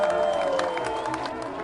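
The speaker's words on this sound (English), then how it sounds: "this is a lot of cheering for us" A crowd in a machinima cheers steadily for a short stretch, forming a dense wash of voices without any single standout shout.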